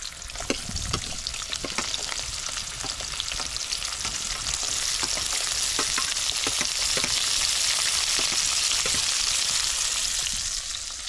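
Onion frying in hot oil, a dense steady crackle and sizzle with scattered spatter pops and stirring sounds, close and fairly loud throughout.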